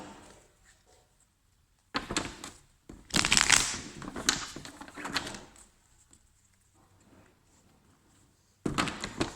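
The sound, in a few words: construction work noise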